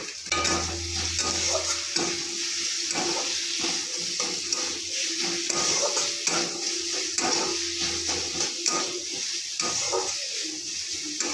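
Garlic paste, ginger paste and chopped onion frying in hot oil, a steady close sizzle with stirring and scraping throughout, no voices.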